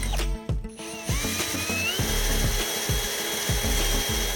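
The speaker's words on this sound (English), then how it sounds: "I'm gonna drill through, and I'm gonna push this pin back in" A power drill bores through a Jaguar F-Type radiator mount on a crashed car under repair, a loud close grinding whir broken by rhythmic ratcheting stutters.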